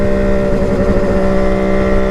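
Kawasaki KH500 H1 triple two-stroke motorcycle on a shakedown ride, a loud, steady engine drone with strong low harmonics held at an even pitch close to the microphone, with no talk.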